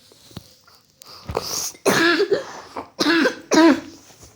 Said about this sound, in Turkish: öksürüyorum çünkü hastayım